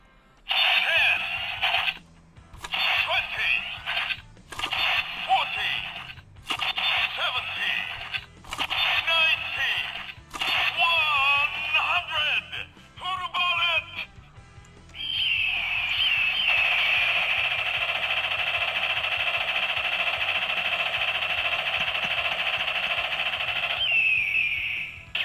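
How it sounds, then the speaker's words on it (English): A DX Hawk Gatlinger toy gun plays electronic continuous-attack effects, first in short bursts of bright, warbling tones with gaps, then one long sustained barrage for about ten seconds, loud and close, with talking heard amid it. "Okay, now let's go for the continuous attack."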